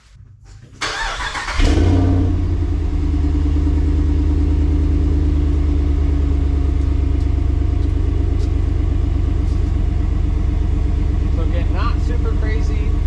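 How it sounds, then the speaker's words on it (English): A truck fitted with a Super 44 exhaust cranks and fires up, then settles into a loud, deep, steady idle with an aggressive rumbling burble that holds throughout. "start the truck up for you so you can kind of hear what the Super 44 sounds like"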